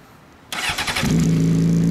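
After a brief quiet moment, a red Honda CBR600RR sport motorcycle with a Moriwaki exhaust fires up close by with a burst of cranking and settles into a loud, steady running drone.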